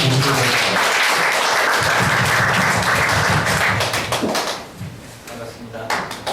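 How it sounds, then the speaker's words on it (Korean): Lecture audience at an academy special talk clapping to welcome the speaker, loud dense applause with voices mixed in, fading after several seconds into scattered claps and talk. "큰 박수와 함께 작가님을 앞으로 모시도록 하겠습니다."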